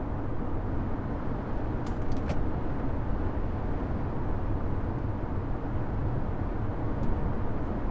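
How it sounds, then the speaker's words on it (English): Inside an Infiniti G35 cruising at 50 mph, a steady broadband rush of wind and road noise fills the cabin, with a couple of faint brief clicks. "There is a little bit of wind noise, but that's to be expected, I think, at 50 miles an hour."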